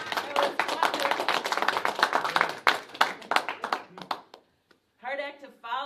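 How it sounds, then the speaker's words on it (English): Audience applause at a community talent show breaks out in dense, loud clapping for about four seconds, then fades to silence before voices resume talking. "And we should applaud."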